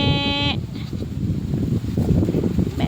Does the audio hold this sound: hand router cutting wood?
no